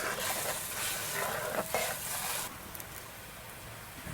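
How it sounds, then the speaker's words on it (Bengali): Fish curry broth seasoned with salt and turmeric bubbles and sizzles steadily in a pot, a close, busy hiss that softens partway through and carries on quietly. "ঝোল ফুটে গেছে এবার মাছ দিয়ে দেবো"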